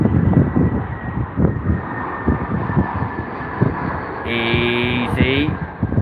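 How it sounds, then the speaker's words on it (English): An Airbus A319 airliner lands at Heathrow airport with a steady, broad engine roar that swells and holds throughout, and a faint voice can be heard in the background. "Just in time for another A319 arrival."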